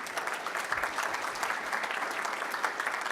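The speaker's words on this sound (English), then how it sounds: "Just one more round of applause for our presenters." Audience applause after a presentation on a Holstein dairy farm tour near Wausau, Wisconsin: a steady crackle of many hands clapping, fairly even and moderately loud, with no talk.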